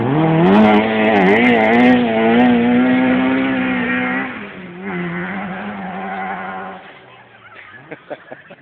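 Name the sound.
Opel Ascona rally car spinning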